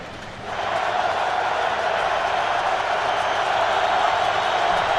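Loud, steady roar of a large football stadium crowd in Baltimore during an NFL game between the Ravens and the Colts, swelling after a brief quieter moment and holding a continuous wash of noise throughout.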